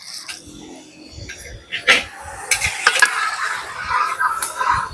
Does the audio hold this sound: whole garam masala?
yes